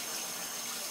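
Cold tap water running into a strainer while rinsing seeds from a Brandywine tomato, a brief, steady hiss of flowing water, moderately quiet and alone.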